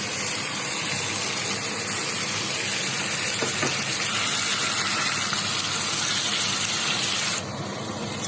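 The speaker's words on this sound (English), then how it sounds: "I think now is the time when I can add this tomato puree." Tomato puree hits a pan of frying chicken curry cooked home style, giving a steady, loud hiss and sizzle that carries on without a break and drops slightly near the end.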